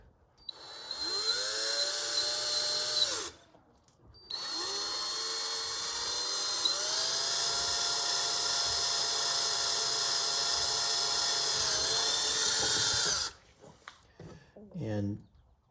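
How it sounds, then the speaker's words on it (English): Power drill with a 3/16 inch bit drilling holes to mount knee pads on a 2021 Sea-Doo Fish Pro, two long high-pitched whining runs with a brief pause between them, fairly loud and close, ending with faint handling noise. "So I'm going to start with a smaller drill bit"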